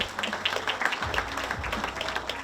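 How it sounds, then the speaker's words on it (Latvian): Applause at a sports awards ceremony in Latvia, steady clapping from an audience at moderate distance, fairly soft and even, with some low background rumble. "Aplausi un uzvara un balva Kristapam Kronbergam."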